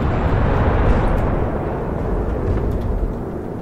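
Cannon fire from armoured vehicles, likely tank guns, comes as a continuous loud, dense rumble of blasts and booms with no clear gaps, close and sustained throughout.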